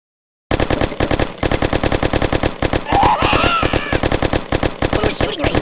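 Rapid automatic gunfire from firearms in the video game Kick The Buddy, a dense, loud, steady stream of shots running almost without pause after a brief silent start.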